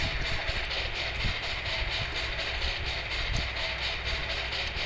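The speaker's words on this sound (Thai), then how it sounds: "เดินทางด้วยรถไฟ" A train in the old mod game They Hunger rumbles steadily along the rails, a dense, continuous roar with faint rhythmic clatter, loud and close with no voices.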